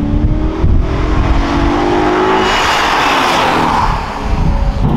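A V8 car cruises at about 70, its engine a steady, loud drone with broadband road and wind roar, easing slightly near the end.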